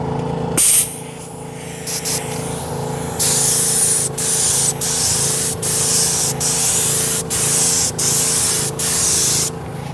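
A spray bottle of Drive Auto Appearance Luxe Cockpit Conditioner is pumped onto a car interior, steady close hissing spritzes in a regular rhythm of about eight bursts.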